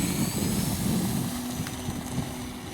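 An RC airplane engine runs at full throttle in a steady, buzzing drone that stays fairly loud and even throughout, with no voices.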